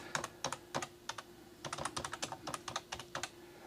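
Rapid bursts of typing on a computer keyboard, clacking in uneven clusters of keystrokes with short pauses between, close and clear over a faint steady hum, with no talking.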